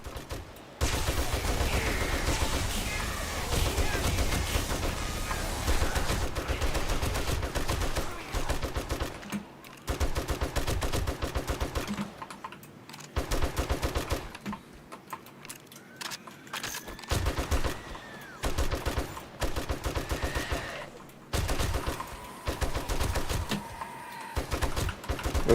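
Repeated gunfire from shooting zombies in the survival game 7 Days to Die, dense bursts of shots running most of the time, with short quiet gaps and some ambient game sound between volleys.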